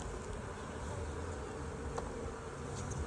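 Honeybees hum steadily around open hive frames during a spring brood check, a dense, continuous close buzz that fills the short stretch with no talk over it.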